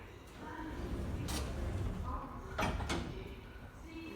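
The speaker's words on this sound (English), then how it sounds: "Doors closing." Lift doors at Peterborough railway station slide shut with a soft mechanical rumble and brief rattles, heard close over steady station hum.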